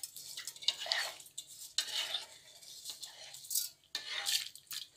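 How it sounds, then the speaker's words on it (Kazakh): Milk porridge stirred in a pot with a spoon scraping the bottom, a soft swishing and clinking in several bursts over a quiet simmer, close and fairly faint. "асты жабыспас үшін араластырып"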